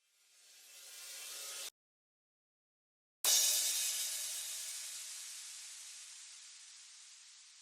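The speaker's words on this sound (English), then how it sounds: "And it's just these reverses, sweeps, and impacts." Pop drum arrangement transition effects: a rising white-noise sweep swells for under two seconds, cuts to silence, then a sharp impact hits and a long reversed-style noise wash decays slowly; airy, hissy and fairly quiet, no voices.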